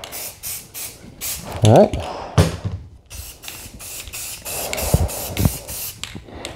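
Spray paint cans hiss in repeated short bursts, close and loud, with brief pauses and can clicks between sprays; a voice speaks briefly.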